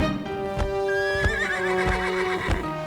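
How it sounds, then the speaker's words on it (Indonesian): A winged horse in an Indonesian cartoon lets out a loud, drawn-out whinny with a wavering pitch, while sharp hoof-like thumps at a steady beat run beneath it. "Kuda sembrani betul."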